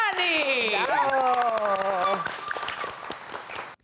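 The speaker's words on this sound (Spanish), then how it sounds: "Recibamos con un fuerte aplauso a Hugo Plevisani" A studio audience applauds on a cooking show, a dense patter of clapping with cheering voices and a loud host shouting over it, the clapping continuing as the voice falls away.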